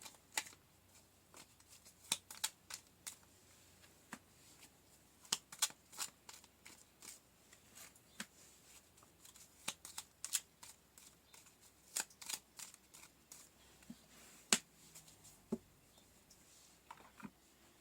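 Tarot cards shuffled by hand, quiet and close, a run of irregular crisp snaps and riffles scattered through a near-silent room with no voices.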